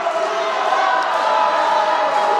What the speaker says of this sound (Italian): Applausi dei tifosi sardi per i propri giocatori